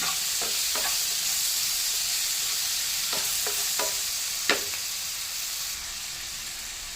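Tomatoes sizzle steadily in a hot pan for matar paneer bhurji, with several sharp scraping stirs of a spoon against the metal breaking through the continuous frying hiss.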